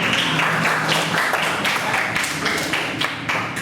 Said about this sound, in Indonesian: beri tepuk tangan dulu untuk perokok